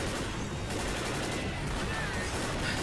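Dense gunfire from the Left 4 Dead game, dead air crane level, crackles in rapid overlapping bursts for a few seconds, loud and close amid chaotic noise.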